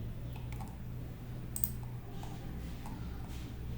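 Data is entered on a computer keyboard in quick, soft key clicks, scattered irregularly at close range over a low background hum.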